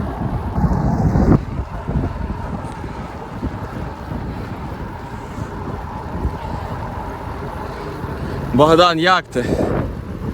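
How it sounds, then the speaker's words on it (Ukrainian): Steady wind rumble buffets the microphone throughout a cycling trip in Ukraine, with voices talking over it and a brief whistling squeal near the end. "Вітер мішає."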